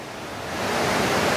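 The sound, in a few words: waterfall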